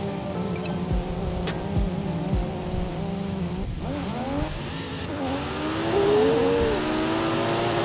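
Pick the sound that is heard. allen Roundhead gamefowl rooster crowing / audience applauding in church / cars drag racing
cars drag racing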